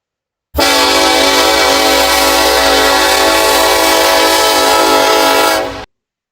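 A custom train horn in the game Trainz gives a loud, sustained blast with rich layered harmonics, steady for about five seconds before cutting off sharply, heard alone.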